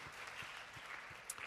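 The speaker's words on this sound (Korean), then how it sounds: "주님 앞에 감사와 영광의 박수를 올려드립시다." Faint, brief clapping from a church congregation during a youth worship service at Sinchon Holiness Church, a soft steady patter lasting under two seconds with no voices over it.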